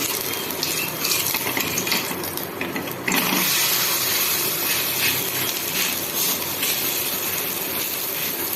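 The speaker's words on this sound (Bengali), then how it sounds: "পুরো লাল লাল করে ভেজে নিচ্ছি" Food frying in a pan until it browns makes a loud, continuous sizzle and hiss that swells slightly partway through and stays close and dense throughout, with no talking.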